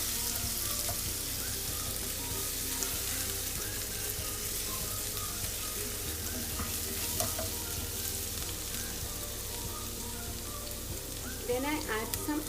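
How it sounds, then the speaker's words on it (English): Garlic sautéing in olive oil in a pan gives a steady, close sizzle and crackle, with a few clinks of stirring toward the end. "We add some garlic to the olive oil. Saute the garlic for a little while."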